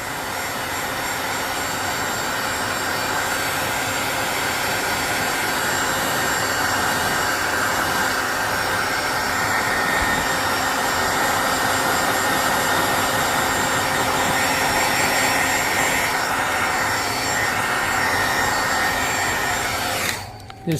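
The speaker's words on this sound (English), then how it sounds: "Speed it up with the blow dryer." Hair dryer blowing on fresh paint on a model truck body, a loud, steady whooshing roar held close for about twenty seconds before cutting off at the end.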